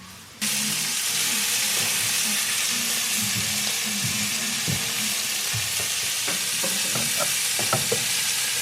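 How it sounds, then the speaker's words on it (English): Deer steak sizzles steadily in a pan on a wood stove, a loud continuous frying hiss with scattered crackles and small pops growing busier toward the end. "deer steak, and baked potatoes on the wood stove."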